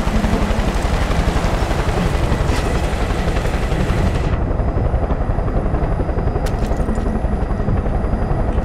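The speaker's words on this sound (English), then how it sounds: "There's the chopper." Helicopter in the BigFoot video game, a loud continuous rotor thrum that fills the scene and then dulls partway through as the high end drops away.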